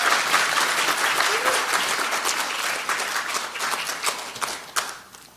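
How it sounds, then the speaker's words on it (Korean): Audience at a Democratic Party new-member academy applauding a speaker's introduction, dense sustained clapping from a large crowd that thins and fades toward the end. "뜨거운 박수 부탁드립니다."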